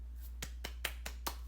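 Five sharp, evenly spaced hand claps, each brief and crisp over a low steady hum, fairly faint and unaccompanied by talk.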